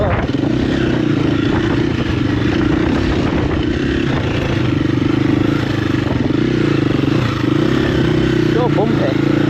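A KTM EXC-F 350 dirt bike rides a bumpy green lane, its engine droning loud and close throughout with steady revving and clattering over rough ground.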